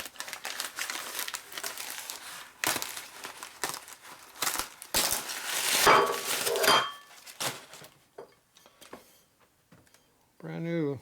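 Packaging around a new belt drive clutch basket pulley crinkles and rustles in close, irregular bursts, louder in the middle, with a short voiced sound at the end.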